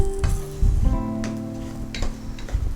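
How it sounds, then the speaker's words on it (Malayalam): Coriander powder sizzles steadily in a hot pan while a spoon stirs and scrapes it in short strokes, cooking for a pepper duck roast; close and continuous, with no talking. "മല്ലിപ്പൊടി ഇട്ട് ശരിക്ക് ഇളക്കി കൊടുക്കണം."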